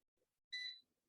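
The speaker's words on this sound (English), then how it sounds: "it's going to beep 5 times. When it's done, I can shut it off here" A single short electronic beep from an air fryer signaling it is done, clear but faint in an otherwise quiet room.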